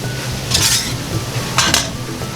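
Lentil soup ingredients with salt, pepper and cumin powder being mixed in a pot, with two bright bursts of utensil scraping and clinking against the metal, close and fairly loud over a low background hum.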